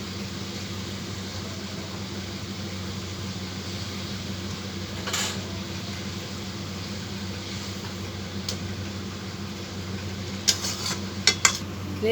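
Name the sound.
stirring stuffed pointed gourds in a pan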